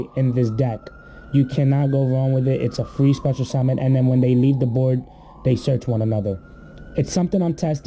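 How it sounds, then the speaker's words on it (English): Emergency sirens wail outside, rising and falling faintly in the background behind someone talking close to the microphone indoors. "I'm sorry about the sirens, guys."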